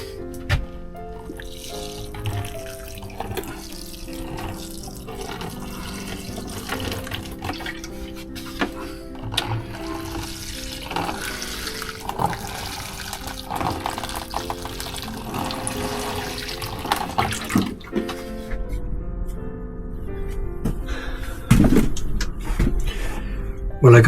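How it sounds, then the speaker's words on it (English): Freshly planted peas are watered in a garden, giving close, uneven splashing and trickling of water on soil that swells and fades over about twenty seconds, with a few knocks and no speech. "And I'll water them."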